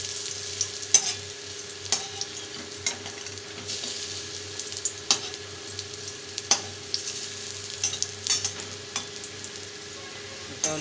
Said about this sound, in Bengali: এটাও লাল করে ভেজে নেব।